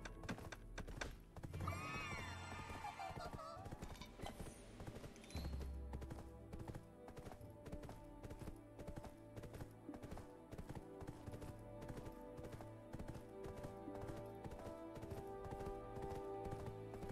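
Rhythmic horse hooves clip-clop steadily in the Black Desert video game, accompanied by a neigh early on, quiet and continuous under game sounds.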